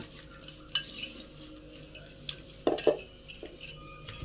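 Onion vada batter with curry leaves and salt being mixed by hand in a bowl, giving soft squelching and scraping with a few sharp utensil clinks and knocks, close and fairly quiet, no talking.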